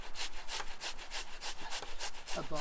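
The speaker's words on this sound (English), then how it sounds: "put them on a coarse grate and grate them into a" Food rasped across a coarse grater into a bowl during a live brunch cook, a steady run of rough, rhythmic scraping strokes, close and fairly loud, about two strokes per second.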